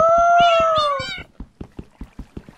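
A video game cat gives a long, loud, drawn-out meow that falls off, followed by a steady series of soft rhythmic taps or footsteps alone.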